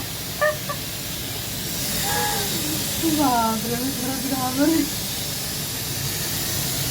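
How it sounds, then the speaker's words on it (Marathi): A pressure cooker hisses loudly and steadily with a rushing, watery edge as someone speaks briefly over it. "पाण्याचा असा आवाज आला एकदम खरखर असा मी कुकर कुकरला असं काय वाजायला लागलं"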